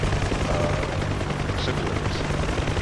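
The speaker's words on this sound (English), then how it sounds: "That ground effect is from flying the helicopter close to the ground" A UH-1 Huey helicopter in the DCS flight simulator flies low near the ground, its loud, steady rotor and engine roar filling the scene with faint rattling bursts mixed in.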